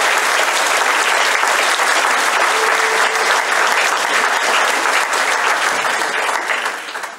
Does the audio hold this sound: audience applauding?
yes